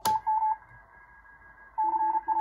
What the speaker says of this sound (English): Hear the other CW signals in there now?